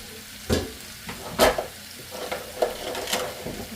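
Beef sizzles and fries in a pan for stew while being stirred with a non-metal utensil, giving scattered scraping and crackling bursts over a steady, close hiss with no speech.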